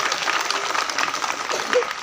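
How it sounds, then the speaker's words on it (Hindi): Brief, moderately loud applause from an audience at a school uniform distribution event, with dense clapping throughout. "तालियां जी।"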